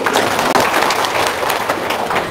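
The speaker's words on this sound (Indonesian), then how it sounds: "Tepuk tangan dulu dong" A loud, dense burst of audience applause at a talk, steady, crowded clapping filling the whole moment without pause.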